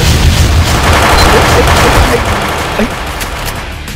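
Loud, dense gunfire in a shooting video game, the weapon firing two shots per click, heavy booming bursts packed together and slowly easing off, with players talking over it.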